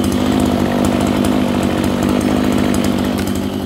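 A STIHL FS260 brush cutter, a 26cc two-stroke trimmer with a 34 mm bore, runs close by at a steady high idle, its loud buzzing drone unbroken for a few seconds with no talk.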